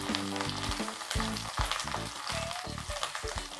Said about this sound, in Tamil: கீழே நல்லா ஃப்ரை ஆகிடுச்சு, வெந்துருச்சு.